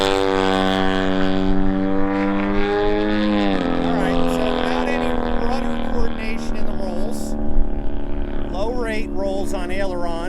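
A gas-engine 122-inch Seagull Models Super Decathlon RC airplane, 60-85cc size, drones steadily and loudly at close range, its engine pitch dropping then wavering and climbing as it powers up for takeoff.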